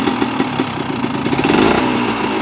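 An Italian two-stroke motorcycle engine runs close and loud, its rapid buzzing pulses building into a rev and settling back, with no talk over it.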